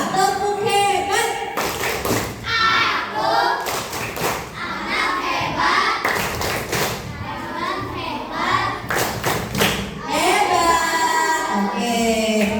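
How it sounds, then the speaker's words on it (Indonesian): Elementary schoolchildren in a classroom performing the 'tepuk hebat' clapping chant, rhythmic bursts of hand claps mixed with loud chanting young voices in unison. "Coba tepuk hebat"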